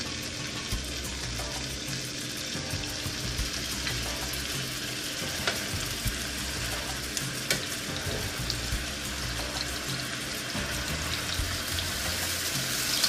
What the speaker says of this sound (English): Now I'm just going to start to carefully add my shrimp.